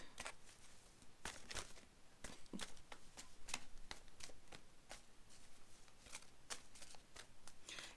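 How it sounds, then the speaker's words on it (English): A tarot card deck of 44 cards is shuffled close by, with rapid, uneven riffling and flicking bursts repeating steadily throughout, no talking. "there are 44 cards in this deck"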